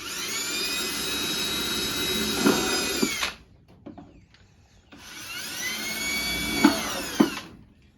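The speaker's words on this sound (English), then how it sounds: "So I'm going to drill some holes in them." Two long bursts of a power drill whining at high speed while drilling drainage holes in a plant pot, each spinning down abruptly, with a short quiet gap between them.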